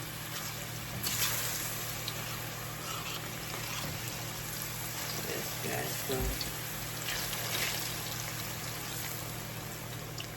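Sliced plantain sizzles in hot oil with a constant soft crackle and hiss throughout, low in level, with faint kitchen movement in the background.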